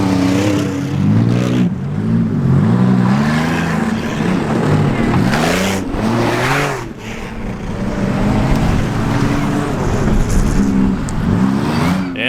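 Junkyard rally race cars rev hard and accelerate off the start in a cornfield, loud rising and falling engine notes overlapping for several seconds, with a brief dip mid-way.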